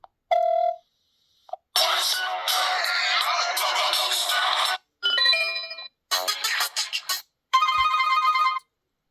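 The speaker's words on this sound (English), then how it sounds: "I want to just see the ringtone" A phone cycles through several short electronic ringtone previews, each a bright melodic burst separated by brief silences.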